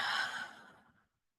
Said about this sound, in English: Taking another big breath in and then out.